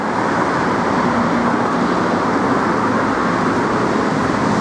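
Dense city street traffic in Nana, Sukhumvit, Bangkok: a constant loud wash of engines and road roar with no gaps, busy vehicles passing close by and around.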